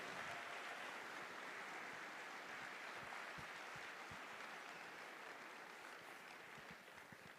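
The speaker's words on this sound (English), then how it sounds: "please give a massive round of applause to all of these teams" An audience in the main-stage hall at Devcon VI in Bogotá applauds teams, a soft, distant wash of many hands clapping that stays steady and even throughout.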